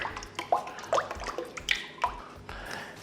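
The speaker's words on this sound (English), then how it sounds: "Right now I'm going to add my egg. Give it a good stir as well." An egg is stirred into a dough mixture in a big bowl for jam buns, giving a series of soft wet squelches and clicks in an irregular rhythm, close and quiet.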